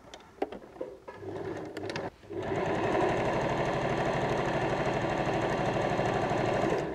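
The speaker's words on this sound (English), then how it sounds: "Sew it straight down the middle." A sewing machine stitching a bag strap, a few clicks and handling noises, then a steady loud, rapid mechanical whirring run of stitching close by, no talking.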